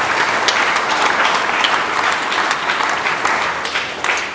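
Catholic congregation applauding during a Mass for Mother Mary's birthday, a loud, sustained roar of many hands clapping together, steady and close for the whole stretch.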